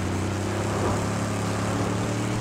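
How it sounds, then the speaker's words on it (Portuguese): A V8 car engine in the Mad Max video game drones with a steady, loud, low rumble that holds throughout without a break, heard close and alone with no talking. "Isto é um V8, Zé."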